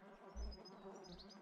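Flies buzzing around a container in 7 Days to Die, a faint, thin droning hum drifting over quiet background noise with a brief low thump, very soft and short.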